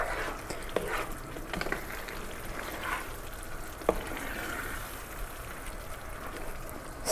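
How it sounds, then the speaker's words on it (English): Shrimp and crawfish etouffee sizzling steadily in a pan, a close, continuous crackle and hiss with occasional stirring knocks. "Sizzling away, it's looking beautiful."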